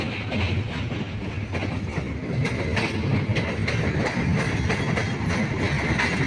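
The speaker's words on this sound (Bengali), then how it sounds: "এই দেখতে পাচ্ছেন আমাদের ট্রেনটি পাখি স্টেশনে পৌঁছে গেছে" A train rumbles steadily along the rails in Pabna district, Bangladesh, arriving at Pakshi station, its wheels giving a continuous clickety-clack close by.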